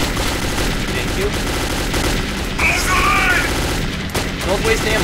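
Gunfire in the video game Metro 2033, with loud, dense volleys of shots and booms running through the whole stretch under a constant bed of game sound.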